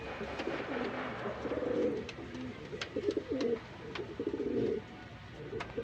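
Several domestic pigeons kept in pairs give repeated low, throaty coos close by, in overlapping phrases over a faint background hum, with a few soft clicks and rustles between calls.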